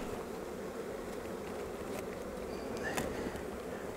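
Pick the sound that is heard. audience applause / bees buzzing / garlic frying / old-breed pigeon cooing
bees buzzing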